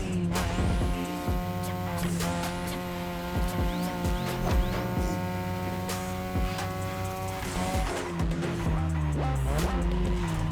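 A 2002 third-generation Mazda RX-7 with a rotary engine races in The Crew Motorfest, its high revving engine whining and shifting up and down, with repeated tire squeals and skids throughout, loud and close.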